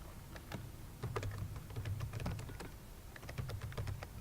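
Typing a note on a computer keyboard, with quick, irregular key clicks tapping steadily and fairly faintly over a low background hum.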